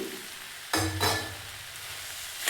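Fried okra with chili powder hits a hot pan and is stirred, producing a sudden loud burst of sizzling and scraping that settles into a steady, close frying hiss.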